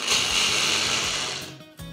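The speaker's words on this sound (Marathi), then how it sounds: "एक कप साबुदाणा घेतलेला आहे. हा मिक्सरमध्ये पहिले फिरवून घेऊयात." A kitchen mixer grinder whirs loudly and steadily as it coarsely grinds a cup of dry sago pearls, the rattling motor noise running continuously before cutting off near the end, with no talking.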